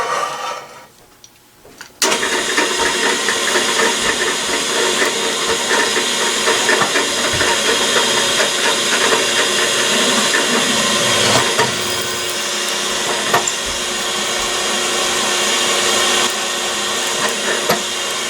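A steady, loud whirring grind of a drill boring holes into soft steel held in a vise runs almost continuously after a quiet start, with no talking.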